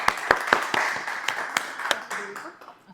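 A small school audience at an impromptu speaking session gives a round of applause: a series of sharp, spaced claps close by, fading out toward the end, with a faint voice underneath.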